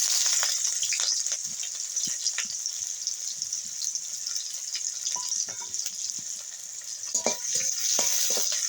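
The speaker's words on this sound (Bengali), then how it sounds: "তেল গরম হয়ে গেছে, এবার দিয়ে দেবো কাঁচা লঙ্কা, এবার দিয়ে দেবো কুচনো পেঁয়াজ" Green chillies and chopped onion fry in hot oil, a steady bright hiss with scattered crackles and spits, close and continuous, with occasional stirring clinks and no talking.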